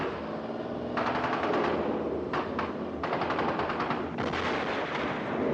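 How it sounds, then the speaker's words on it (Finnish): A T-55 tank fires its guns, with sustained bursts of rapid machine-gun fire layered over a heavy rumble, loud and continuous with brief gaps between bursts. "Liikkeestäkin voi ampua, mutta halutessaan tarkkaa tulta vaunu yleensä pysähtyy."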